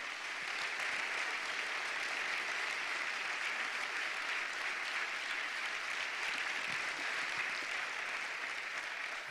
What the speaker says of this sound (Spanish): os parece si le dedicamos un aplauso enorme de todos nosotros